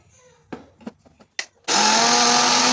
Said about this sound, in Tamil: இப்போ நம்ம வந்து அதை வந்து மிக்சியில் போட்டுட்டு நல்லா வலுவலுன்னு வந்து நம்ம வந்து அரைச்சி எடுத்துக்கலாம்.